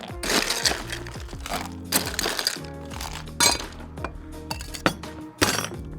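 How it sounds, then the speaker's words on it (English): Ice cubes clattering into a cocktail shaker as a drink is mixed at a home bar setup, a series of sharp glassy clinks and cracks in several bursts, close and fairly loud with no talking. "And then you're gonna add some ice."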